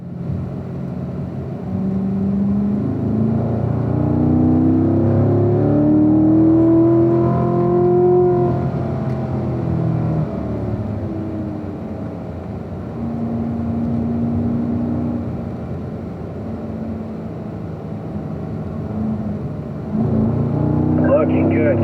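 A race car accelerates out of a corner on a track. The engine note climbs and swells, then holds a steady drone down the straight, with a voice talking over it.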